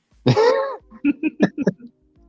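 In a video game cutscene, after a strained, drawn-out vocal groan, a female character coughs in a quick burst of four or five short, close hacks.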